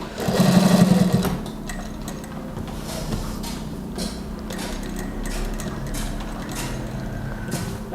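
A sewing machine stitching a sleeveless daster dress whirs in a loud short burst, then keeps running at a quieter, steady mechanical hum and clatter, with no talk over it.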